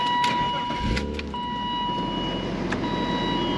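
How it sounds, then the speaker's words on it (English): A 1999 BMW M3 cranks and fires up close by, a short starter whir and then a deep idle that settles into a steady rumble, with faint chimes from the cabin. "let's go ahead and get in the car over there and give her a start"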